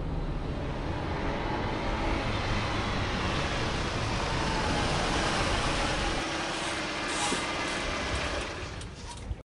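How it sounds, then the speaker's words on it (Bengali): A car engine runs steadily at close range for several seconds and then cuts off abruptly as the vehicle halts in front of a roadside tea stall. "গাড়িটা যথারীতি গিয়ে দাঁড়ালো চায়ের দোকানের সামনে"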